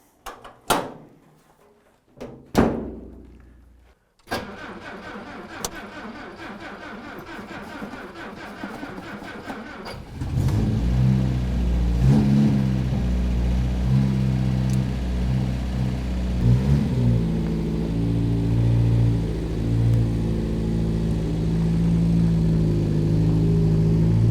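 A 1947 Volvo PV, first model year and untouched since the 1970s, is hand-pumped and then started: a few sharp mechanical clunks, a cranking stretch, then the engine catches and settles into a loud, steady idle.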